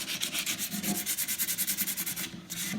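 Horn inlays on a hickory longbow are sanded with 220 grit paper in quick, rhythmic back-and-forth rasps, close and even, with a brief pause near the end.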